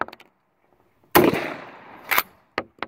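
A Savage 77 pump shotgun fitted with a Poly Choke and a cut compensator is fired outdoors. One loud blast rolls away in a long echo, then a sharper second report follows, and a few faint clicks come after.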